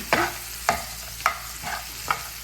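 A spoon scrapes through ladies finger (okra) curry in a pan in five steady, evenly spaced strokes over a soft sizzle, close up and with no talking.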